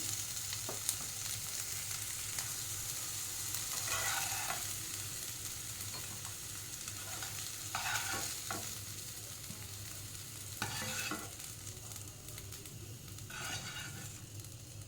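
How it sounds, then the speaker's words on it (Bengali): Soybean chunks fry in a pan for a vegetarian soybean curry, giving a faint, continuous sizzle punctuated every few seconds by brief bursts of stirring and scraping. "হালকা লাল করে ভেজে নিয়েছি সয়াবিনগুলো"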